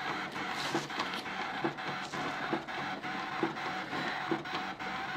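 A Brother ScanNCut DX SDX230Di electronic cutting machine running, a steady mechanical whir with regular rhythmic pulses of the moving head, close and continuous without talk.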